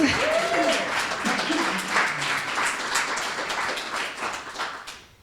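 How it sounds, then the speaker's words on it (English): Audience applause at an EforAll accelerator final presentations event fills the space, busy clapping at a steady level with a brief tonal sound early on, tapering toward the end. "huge round of applause for what EforAll does"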